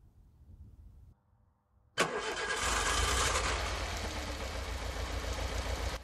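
A car engine cranks and catches abruptly during an ignition spark test, then runs on at a loud, steady idle close by after a brief quiet pause.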